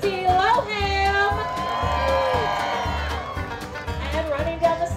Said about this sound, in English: Who out there is cheering for Lindsay Lohan?